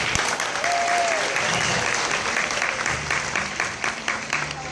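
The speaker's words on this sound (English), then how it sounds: "let's give Otto a round of applause" Audience at a rough-toothed dolphin show at Gulf World breaking into loud, sustained applause that fills the whole moment and tapers slightly toward the end, with a whistle rising briefly over the clapping.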